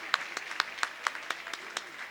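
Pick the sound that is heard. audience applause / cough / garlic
audience applause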